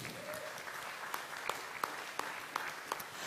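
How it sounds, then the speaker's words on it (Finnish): Applause from an audience at a live event, a steady wash of clapping with a few sharper individual claps standing out, moderately loud and without talk over it. "Aplodit hänelle."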